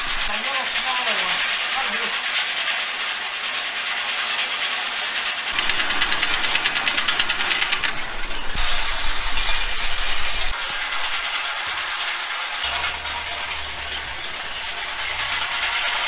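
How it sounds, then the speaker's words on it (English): A hay bale elevator runs steadily on a farm, a continuous mechanical engine drone with a low rumble that swells and shifts in the middle, while voices talk over it. "We have the bale elevator."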